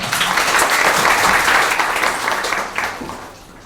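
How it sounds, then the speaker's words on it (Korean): An audience claps after a short five-minute speech session, a loud, dense burst of applause that holds steady and then tapers off toward the end. "박수 부탁드립니다."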